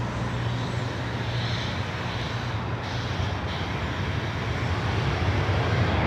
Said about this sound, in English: Delta Airlines Flight 2241 coming from Seattle, 737 at 900 ER.